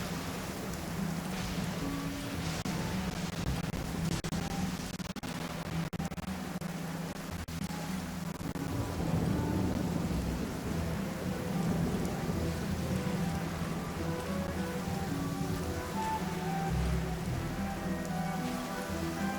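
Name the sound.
rain and thunder in video game Genshin Impact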